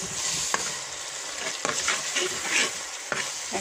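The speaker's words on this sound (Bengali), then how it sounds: "তো আমি এটা একটু ভাজতেছি" Meat masala sizzles in a pan while being stirred, with a soft continuous frying hiss broken by a few sharp spoon scrapes spaced about a second apart, close and fairly quiet.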